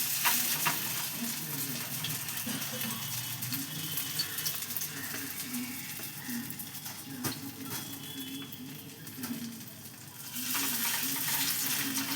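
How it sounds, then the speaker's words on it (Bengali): Flattened rice pakoras frying in oil, a steady bubbling sizzle that runs throughout, with occasional scrapes and taps as they are moved in the pan. "তেল দিয়ে এই যে আবার আমি দিয়ে দিচ্ছি পকোড়াগুলো।"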